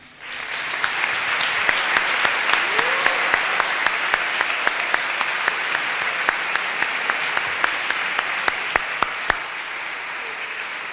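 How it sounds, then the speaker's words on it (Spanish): An audience at a Luis Alberto Spinetta recital in Casa Rosada breaks into loud, sustained applause, dense clapping with sharp individual claps popping out and a brief cheer, holding steady before easing slightly. "quiero un gran aplauso para Casuo"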